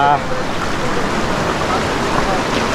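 Clear water of the Bagsit River in Palauig, Zambales rushes steadily in a continuous broadband wash, close and even throughout, with faint voices in the background.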